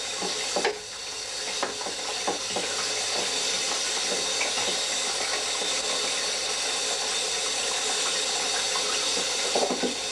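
Tap water streams steadily into a colander of wild raspberries in a sink, a loud, continuous splashing rush with faint clinks, running unbroken throughout without any voices.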